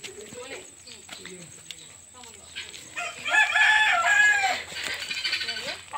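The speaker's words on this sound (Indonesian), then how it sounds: "Korang Didi, nanti cakap kuat sikit lawan bunyi ayam." Chickens and roosters at a fowl gathering in Kalabakan, with scattered clucks and calls giving way to a loud rooster crow midway, followed by more clucking.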